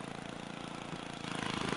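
A lawn mower engine in the video game Happy Wheels buzzes with a fast, pulsing putter, running steadily and swelling slightly louder toward the end, with no voices.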